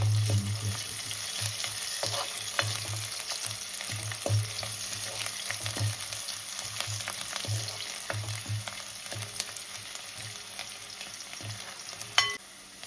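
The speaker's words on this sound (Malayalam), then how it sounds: "നമുക്കതിൽ ആ എണ്ണയിലേക്ക് തന്നെ ഇഞ്ചി വെളുത്തുള്ളിയും കൂടെ ഒന്ന് വറുത്തെടുക്കാം." Ginger and garlic fry in hot oil with a continuous close sizzle, broken by regular scraping stirs and a sharper clatter of utensil near the end.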